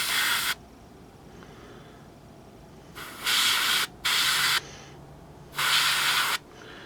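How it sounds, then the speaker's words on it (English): Iwata Revolution HP BR airbrush spraying paint onto a miniature, heard as three hissing bursts of roughly half a second to a second each, close by over a low background hum. "Just checking all around the miniature to make sure that I've sprayed all the areas."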